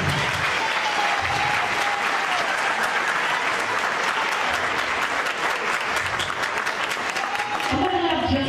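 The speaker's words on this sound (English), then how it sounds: "Let's clap for him." An audience applauds an essay contest winner at a Black History Month event, with dense, steady clapping at close range that fills the whole stretch, and some voices murmur underneath.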